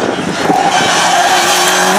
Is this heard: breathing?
no